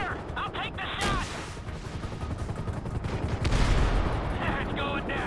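Rapid gunfire from a Grand Theft Auto V shootout, heavily modded with Redux, crackling in bursts across the whole stretch with a heavier boom near the end, mixed with shouted voices over the action.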